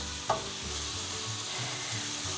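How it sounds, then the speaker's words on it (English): Onions and seasonings fry in a pan and are stirred, giving a steady close sizzle with a brief utensil scrape near the start and no talking. "let's give this a little bit of a stir, getting that started"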